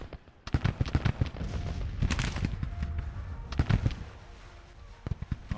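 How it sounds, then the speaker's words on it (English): Musket volleys and artillery fire from a Civil War battle video game crackle in dense, overlapping bursts of gunfire with deeper booms beneath, continuous and fairly loud throughout. "I got 3 brigades firing on you, dude."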